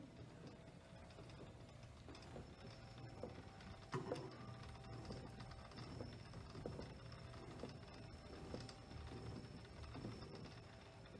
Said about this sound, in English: And then we will crank it. You can see the cylinder begins to turn here.